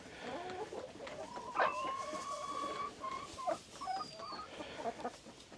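Chickens cluck softly and continuously in a coop bedded with rice husks as they scratch and dig, with a few louder calls standing out over a faint, steady rustling background.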